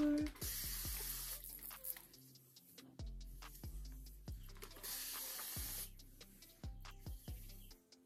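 Hand spray bottle from a hair store misting water onto a curly headband wig, a series of quick hissing spritzes with pump clicks, repeated roughly a dozen times in an uneven rhythm, close and fairly quiet.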